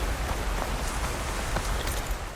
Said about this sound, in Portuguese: Aí está a chuva. Senti no ar que ia cair.